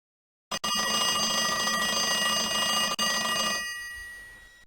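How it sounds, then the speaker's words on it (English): A school bell rings in the Arthur's Teacher Trouble video game, a loud continuous electric ring that starts abruptly, holds for about three seconds with a brief break, then fades away. "The bell rang."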